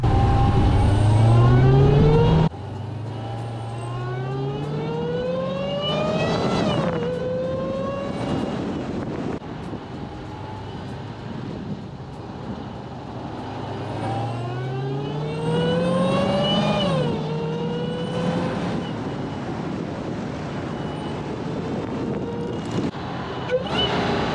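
A supercharged 2020 Dodge Charger Hellcat Widebody with a newly installed intake revs hard in loud repeated pulls, with rising supercharger whine on each climb and drops between pulls, recorded close and without talking.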